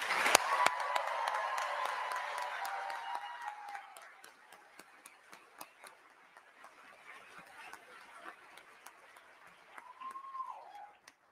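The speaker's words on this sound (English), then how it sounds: "please join me in giving them another round of applause" Audience applauding the new NASA astronaut candidate class, a dense burst of many hands clapping at the start that thins and fades over several seconds, with scattered claps and a faint voice toward the end.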